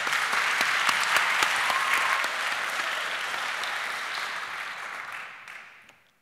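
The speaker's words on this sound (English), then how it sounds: "Give them a round of applause." An audience at a startup pitch final greets a team taking the stage with loud, brisk applause. The clapping holds strong for a few seconds, then thins out and fades away.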